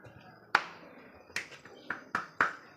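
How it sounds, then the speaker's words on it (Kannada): Five loud, sharp hand claps ring out at uneven intervals in a temple setting, each crack standing clear above a quiet background. "ಜೋರಾಗಿ ಚಪ್ಪಾಳೆ, ಕ್ಲಾಪ್."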